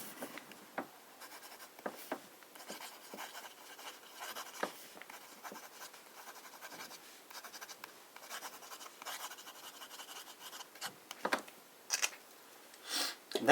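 A medium nib fountain pen scratches across paper in short, quiet strokes with brief pauses between words, growing a little louder and busier toward the end.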